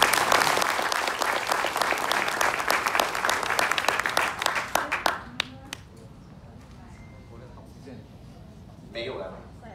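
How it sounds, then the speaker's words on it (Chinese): Audience at a team event breaking into dense clapping that peaks early, then thins into scattered claps and fades out around the midpoint, followed by quiet room tone with a brief voice near the end. "所以需要给瑞威一个掌声吗？"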